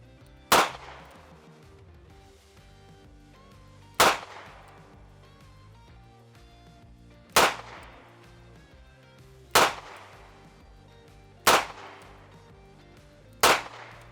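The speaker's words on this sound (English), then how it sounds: "So right here, I have some 158 grain ammo. I'm gonna shoot it at the target" Six sharp gunshots from a snub nose revolver firing 158 grain ammunition at a target, spaced a couple of seconds apart, each a loud close crack over quiet background.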